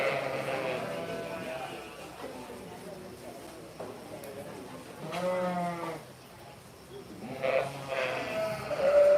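Yearling ewes at a 4-H sheep show bleat several times, with wavering calls rising over crowd murmur and an announcer's voice in a show arena.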